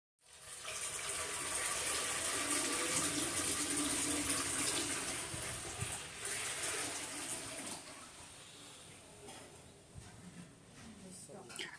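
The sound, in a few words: water being poured into a large brass pot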